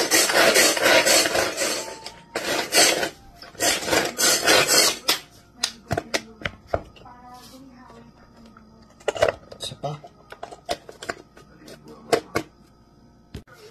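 Onion is sliced on a board for Filipino bopis, giving rapid close knife chops in dense bursts at first, then sparser single taps, with some talking in between.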